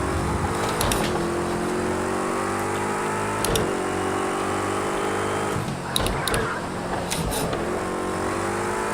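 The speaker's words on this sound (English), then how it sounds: "We are actually racing right now." Race car engines in the racing video game Project Cars 2 hum continuously, with pitch shifting as cars change gear and several sharp clicks or bumps cutting in throughout.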